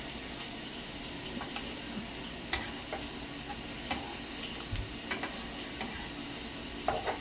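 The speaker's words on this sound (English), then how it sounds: "So we really don't fry the egg that much." An egg for huevos rancheros cooks in a pan, giving a low, steady sizzle with occasional light taps and scrapes from a utensil, heard alone at moderate distance.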